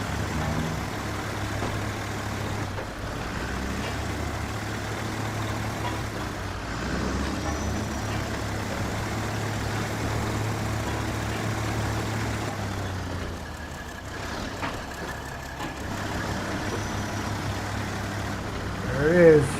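A Kenworth truck engine in the SnowRunner off-road driving game drones steadily in low rumbling tones, with a swell near the end, all under continuous talk from a player.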